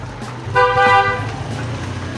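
A car horn gives one clear half-second toot from the street beside an outdoor roadside kitchen, over a low background hum of passing traffic.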